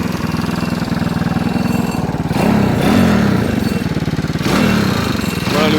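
A Campagna T-Rex 160 motorcycle engine fitted with a Poligny filter, running close by with a steady throbbing idle and two brief blips of the throttle that lift the note before it settles back.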